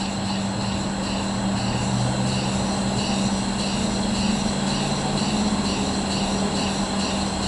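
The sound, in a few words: single cylinder rotary motor running at about 50 psi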